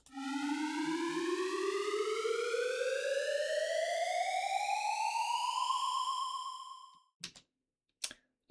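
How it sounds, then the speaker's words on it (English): An EDM riser sample sweeps steadily upward in pitch for about seven seconds, a loud sustained tone with rich harmonics, then fades away and is followed by two short sharp clicks. "So this one I just found a riser sample. It sounds really great for drops."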